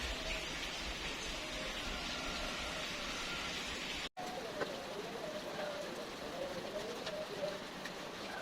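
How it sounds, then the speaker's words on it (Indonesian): Steady rain hisses outside in a constant broadband wash, with faint bird calls in the background and a brief dropout midway. "Ini suasana di luar hujan"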